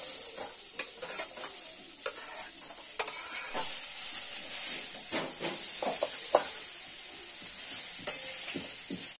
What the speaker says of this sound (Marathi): कढई आपली गरम झाली आहे, आपण कांदा टाकू।